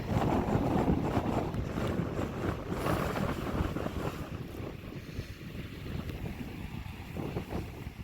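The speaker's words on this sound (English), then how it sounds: "It's a little windy." Steady wind gusts across an open lakeside, blustering against the microphone with a broad rushing roar that swells and eases slightly.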